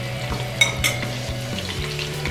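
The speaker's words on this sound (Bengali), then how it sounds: "ঠিক এইভাবে করে বাকি বলগুলো আমি ভেজে নেব" Chicken sweet chili meatballs fry in hot oil until golden brown, giving a steady close sizzle with a couple of light utensil clinks over a faint background hum.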